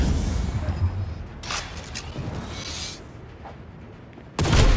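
Gunfire in Cyberpunk 2077: scattered bursts of shots crackle through a noisy combat mix, with a loud sudden blast at the end, under ongoing game sound.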